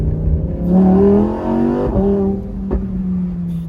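A powerful Lamborghini engine revs up loud and close, its harmonic roar climbing in pitch, easing briefly, then surging again.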